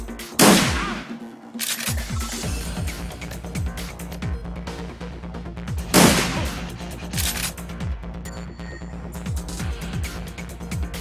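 Gunfire in the Shadowrun Returns video game: loud, sharp shots burst out in clusters, with big cracks near the start and middle and a scatter of smaller rapid reports in between.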